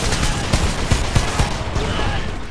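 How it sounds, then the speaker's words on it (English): Rapid bursts of gunfire and explosions in the video game Homefront, Golden Gate Bridge level, crackle through a dense, noisy mix, with sharp impacts recurring every half second or so. "There's an explosion."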